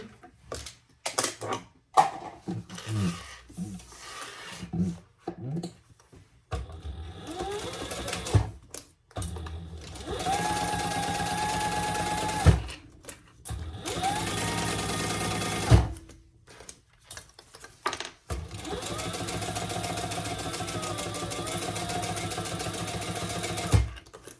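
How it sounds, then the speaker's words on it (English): A sewing machine top stitches a retro style sling in several steady whirring runs of a few seconds each, separated by short pauses and handling clicks. "And then we'll come across here to do the top stitching."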